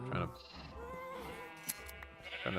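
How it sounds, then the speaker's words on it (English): Sheep bleat in Minecraft, a few wavering calls over steady game music and ambient sound, with a voice speaking alongside. "waiting for the sheep to get ready to breed more so I can shear more"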